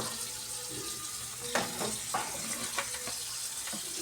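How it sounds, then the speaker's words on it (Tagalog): Tap water running steadily into a sink while vegetables are washed, a constant close splashing hiss with a few clatters and knocks of produce and dishes. "Bago natin lulutuin yung ating gulay, hugasan muna natin para mamaya diretso na siya."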